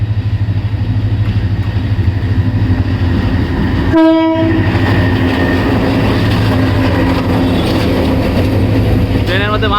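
A train rumbles loudly and steadily close by during heavy rain, its horn blaring once briefly midway, with a constant hiss of rain over the noise.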